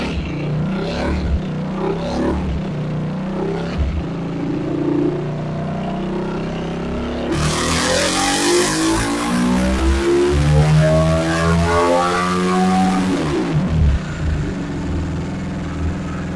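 A motocross bike's small engine revs hard through an aftermarket exhaust and rises in pitch, sharp throttle blips cutting through, with a loud burst of high-revving exhaust midway before settling.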